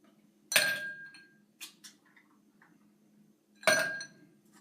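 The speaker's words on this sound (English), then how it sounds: "Go ahead and fill my Collins glass with some ice." Ice cubes dropped into a tall Collins glass while mixing a Romulan Warbird cocktail, two bright glassy clinking bursts with a few faint small clinks between them, close and clear in a quiet room.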